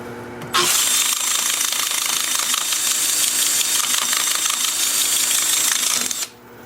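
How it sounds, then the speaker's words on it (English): A drill spins a sanding pad against a wood-turned candle holder on the lathe, starting abruptly into a loud, steady whirring grind that holds for about six seconds before cutting off. "spin the piece up, spin the drill up, and sand"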